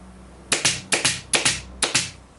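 Upholstery fabric being rubbed smooth over the sides of a chair while it is recovered, heard as about six firm, close swishing strokes in quick pairs, with no talking.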